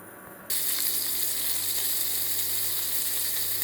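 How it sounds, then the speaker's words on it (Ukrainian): Bream fish tails hit a hot frying pan and a loud, steady sizzle starts abruptly, holding a continuous close hiss with faint crackles to the end. "Підігріваємо сковорідку, розкалюємо її і викладаємо і підсмажуємо отакі от, от хвостики."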